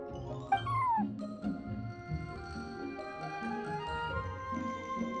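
A feisty cat meows in Genshin Impact, with rising and falling meow calls near the start over a busy musical background, then fading into the soft game music.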